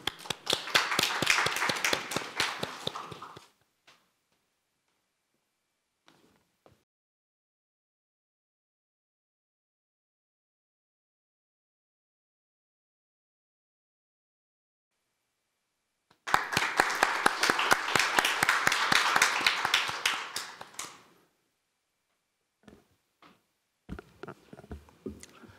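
A speech-contest audience claps for a contestant in two bursts of steady applause, about four seconds each, separated by a long silence, with a few scattered claps at the end.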